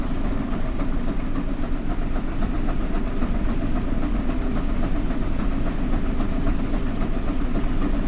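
Flying Scotsman steam locomotive running in Train Sim World, a steady, loud, dense rumble with rapid rhythmic chuffing and rail clatter throughout, no voices.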